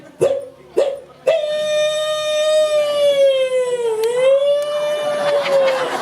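An ambulance siren wails loudly nearby as the vehicle passes, opening with three short bursts before a long, sustained, wavering tone that dips in pitch and then recovers.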